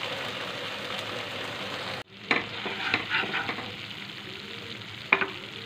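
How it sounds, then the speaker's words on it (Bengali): Hot water goes into a sizzling hilsa mustard curry, cutting off the steady frying hiss abruptly, followed by a softer bubbling simmer with spoon scrapes and clinks, and no talk. "দিয়ে দিচ্ছি গরম জল।"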